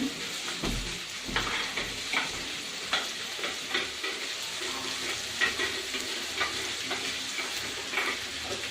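Onions fry in a pan, sending up a steady close sizzle with intermittent stirring clatters and scrapes, moderately loud, with no one talking.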